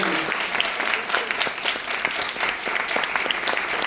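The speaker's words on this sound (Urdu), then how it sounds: "تالیاں بجائیں" Steady applause from a church congregation during a Third Advent Sunday service, dense and continuous clapping filling the space for a few seconds with no speech over it.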